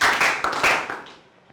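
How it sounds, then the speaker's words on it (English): Classroom of students clapping for a classmate, a short, close burst of hand claps that fades out quickly. "Clap for her."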